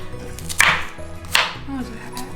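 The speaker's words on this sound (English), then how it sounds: "we're going to chop up the tomatoes" Knife chopping fresh tomatoes on a board: two distinct hard cuts with fainter board taps between, close and fairly loud, no speech.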